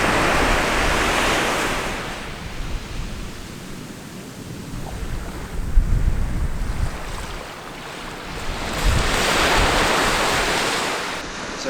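Sea waves at a sheltered beach in Australia, broad rolling surf that swells and recedes in slow cycles, mixed with gusty wind rumbling on the microphone and no voices.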